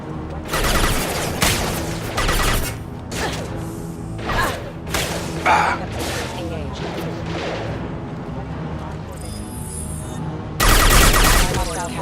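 Gunfire and heavy thumps from the video game Mass Effect 2, arriving in scattered bursts with whooshes between them, then a loud volley near the end while game dialogue plays underneath.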